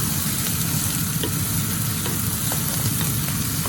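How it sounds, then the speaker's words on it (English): Onions and garlic frying and caramelizing in a pan for lasagna give a constant, close sizzle with faint scrapes of stirring and no voices. "The onions and everything is getting caramelized nicely."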